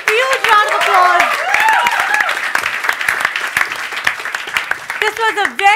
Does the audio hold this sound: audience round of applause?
yes